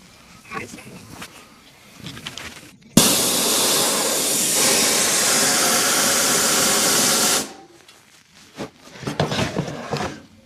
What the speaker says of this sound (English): we're going to drain off all this tank pressure